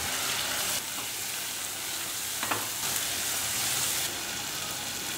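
Ingredients sautéing in a pan while a tamarind kuzhambu is cooked, a steady close sizzle and hiss running throughout with a brief scrape of a spoon stirring partway through, no talking.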